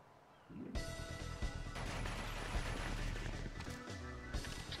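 Dense gunfire and crashing explosions in the Final Fantasy X-2 video game, a loud continuous barrage of overlapping shots and impacts with no voices.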